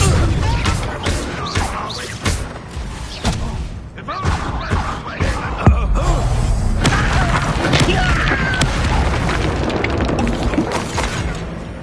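Fire spell blasts in Hogwarts Legacy, repeated booming bursts and crashing impacts in a busy battle mix, loud and close, with some voice in between.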